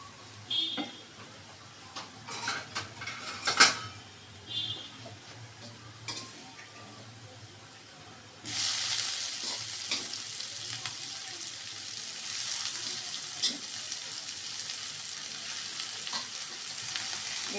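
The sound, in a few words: radish greens poured into frying onion and garlic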